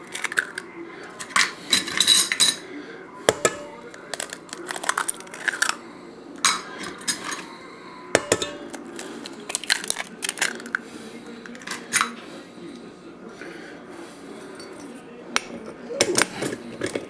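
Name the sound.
mixing eggs into rolled oats in a bowl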